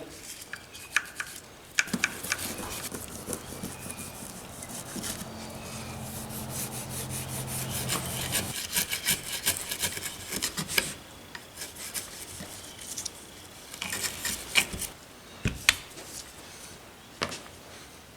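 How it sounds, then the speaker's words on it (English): A small handheld brush scrubs disassembled Kel-Tec CMR30 rifle parts, giving quiet, close scratchy rubbing in uneven strokes with occasional light clicks and taps of metal parts. "grab our little handy brush, get in here and go to scrubbing."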